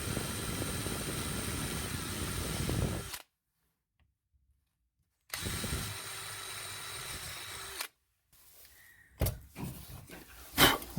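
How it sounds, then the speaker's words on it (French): A sharp metal drill bit bores holes in a leather knife sheath in two whirring bursts separated by silence, followed by a few scattered clicks and handling knocks. "un forêt métal bien affûté, ça fait des trous qui sont assez propres"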